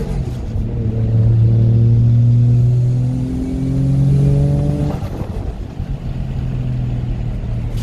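A car engine revs close by in two long rising surges, loud and throaty, its note reverberating off a nearby wall before settling to a lower idle rumble.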